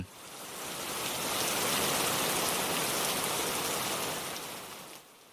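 Steady, dense rain pours down over a dry landscape, a loud, continuous hiss that swells in and holds without a break, with no voices.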